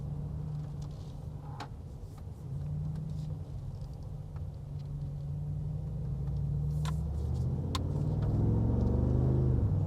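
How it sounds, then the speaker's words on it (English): A 2019 Mercedes-Benz G63 rumbles under throttle, its deep exhaust note swelling louder and rising in pitch as the gas is pressed, heard close with no talking. "I just hit it hard enough so you could just hear the exhaust note"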